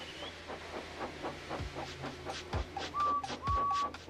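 Edward, a steam engine in the Trainz simulator, puffs away at an even beat, with soft chuffs about every half second that grow slightly stronger, and a thin whistle-like tone near the end. The sound is faint overall.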